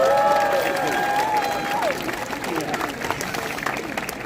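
Crowd applause and cheering at a Renaissance festival animal show, a broad wash of clapping with a few shouted voices rising above it early, then settling into a steadier patter.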